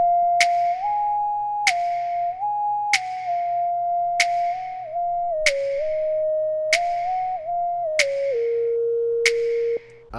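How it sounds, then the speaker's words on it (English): Winter Whistle synth lead preset in FL Studio playing a steady whistle-like melody that glides between sustained notes, with short percussive clicks landing at a regular beat, clean and alone. "let's listen to how it sounds with the Winter Whistle preset"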